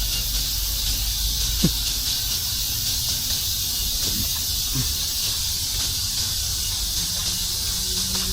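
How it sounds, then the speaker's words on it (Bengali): Crickets in Seoul Forest, a park in South Korea, form a steady, dense, high shimmering drone that fills the whole stretch evenly, with a few faint distant chirps and thumps beneath. "বেশিরভাগ কিন্তু ঝিঝি পোকার আওয়াজটা বেশি শোনা যাচ্ছে"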